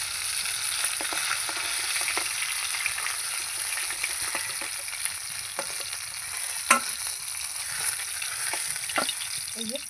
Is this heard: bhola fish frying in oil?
yes